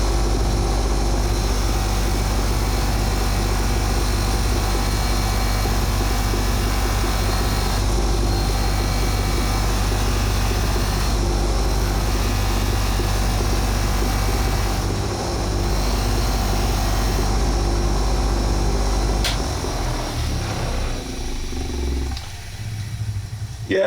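A bench polishing machine with a coarse, well-worn wheel drones loudly and continuously while bike parts are buffed toward a chrome-like finish, with a steady low rumble that briefly dips near the end.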